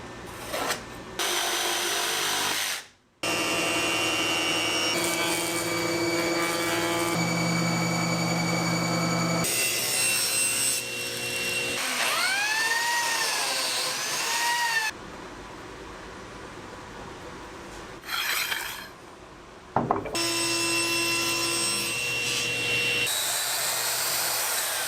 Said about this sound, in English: I'm going to mill this piece here